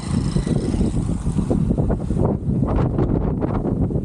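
Strong wind buffets the microphone in loud, continuous rumbling gusts outdoors.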